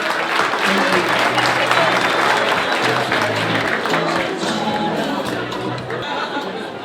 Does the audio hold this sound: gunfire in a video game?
no